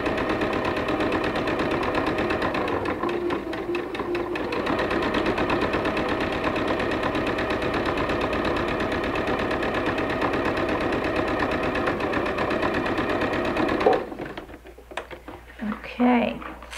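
A sewing machine stitches a quarter-inch seam on a quilt pinwheel block, a fast continuous mechanical whir and needle patter running steadily and close, stopping abruptly near the end where a voice speaks.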